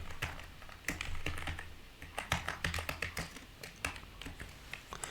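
Rust code is typed on a computer keyboard in quick, irregular bursts of close, crisp key clicks, with a few brief pauses between the runs of keystrokes.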